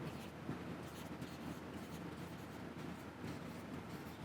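Pen or marker writing on a board during a math lecture on set intersections, a continuous scratchy rustle of strokes close by against a noisy room background.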